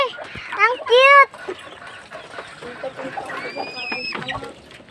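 Chickens cluck and a rooster-like call rises near the start amid backyard poultry with ducklings nearby; rapid fowl calls come close and loud, then scattered clucks continue under children and adults chatting.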